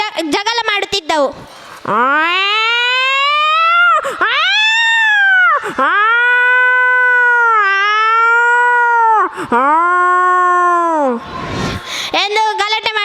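A voice imitates two house cats fighting during a school day performance: a long run of loud, close, wailing yowls that rise and fall, broken by short gaps.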